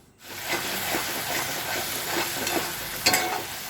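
Mustard paste spice mixture being stir-fried in a pan for mustard fish curry, a steady close sizzle with a rhythm of stirring scrapes and a sharper clatter near the end; no voices.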